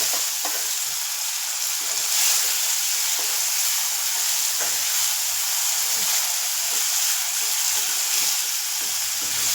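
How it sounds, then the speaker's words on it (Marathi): Soaked moong dal being sautéed in a pan for a fenugreek leaf dish, giving a steady, fairly loud sizzle and frying hiss with soft stirring scrapes throughout, no talking. "एक मिनिटभर परतून घ्यायची एक मिनिटभर परतले डाळ"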